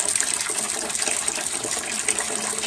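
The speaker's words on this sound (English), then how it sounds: "I'm just gonna drain it in the bucket so I don't have a ton of weight on this thing." Water from a boiler expansion tank drains steadily into a bucket, giving a continuous close splashing gush with no pauses.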